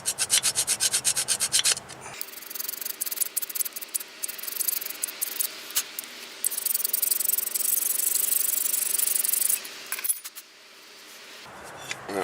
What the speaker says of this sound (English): make sure you scrape